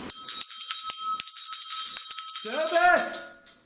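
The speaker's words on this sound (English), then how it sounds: "Just do the bell one more time." A bright bell rings repeatedly with sharp metallic strikes and a lingering shimmer, then fades as a voice briefly speaks near the end.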